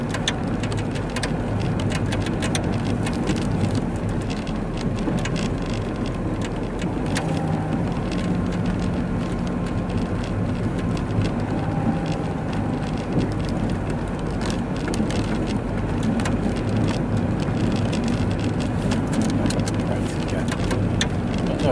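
Wind-driven snow hitting a car during a winter snowstorm drive, a steady close rushing patter over the low rumble of the moving vehicle, continuous without breaks.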